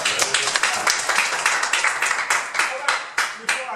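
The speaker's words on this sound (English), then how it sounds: "Give them a round of applause." An audience at a speakers' club meeting gives a round of applause for the speech evaluators, a dense burst of many hands clapping close by that carries on steadily, with a voice speaking over part of it.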